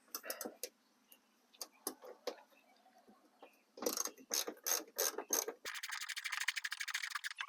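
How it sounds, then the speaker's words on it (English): A ratchet fitted with a Phillips bit backs out fender screws on a Honda Odyssey, giving quick bursts of close, crisp pawl clicks separated by short pauses, then a denser run of rapid ticking at the end. "I'm just going to be using a Phillips bit on a ratchet, and I can just get in between here and take these out with it"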